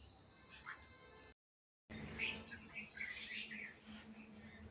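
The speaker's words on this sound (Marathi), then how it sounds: "हे सर्व पक्षी आलेले आहेत इथे." Faint, scattered chirps from a flock of birds feeding on puffed rice scattered outdoors, thin and distant over a low, steady background hiss, with a short silent gap partway through.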